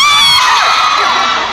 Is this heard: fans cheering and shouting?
yes